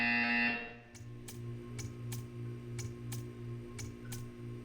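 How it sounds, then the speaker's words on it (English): Portal 2 test chamber: a brief loud tone cuts off, then a steady electronic hum carries evenly spaced sharp ticks, about eight in a row, in a regular rhythm. "You will hear a buzzer."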